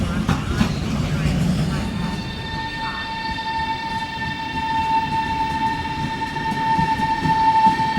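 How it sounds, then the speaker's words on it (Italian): A Trenitalia regional express train arrives at Venezia Mestre station, its rumbling approach giving way to a sustained, steady tonal whine that holds loud and continuous. "Il treno regionale veloce di Trenitalia, proveniente da Venezia Santa Lucia e diretto a Bologna Centrale, nelle ore 16:54, è in arrivo"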